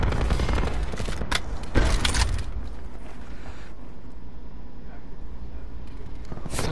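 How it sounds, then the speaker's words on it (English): Light machine gun fire in a run-and-gun video game, a loud dense burst of rapid shots through the first seconds, then a steady roar of game noise with scattered further bangs. "as you can hear, just spamming the crap out of the LMG"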